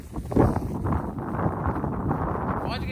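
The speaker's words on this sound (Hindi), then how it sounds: "बहुत ठंडी हवा चल रही" Cold wind gusts steadily across an outdoor microphone, a broad continuous rumble and rush that stays loud and close with slight swells throughout.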